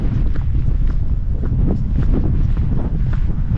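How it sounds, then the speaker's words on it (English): Strong wind buffets the microphone on an exposed hill summit at Titterstone Clee, Shropshire, a steady, loud low roar with gusty rumbling throughout, no voices heard. "It's really windy, that's for sure."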